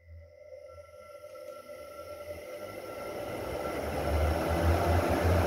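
An exhaust fan motor spins up after a capacitor replacement, a rising hum and whirring drone with a tonal whine that grows steadily louder over several seconds, with no talk.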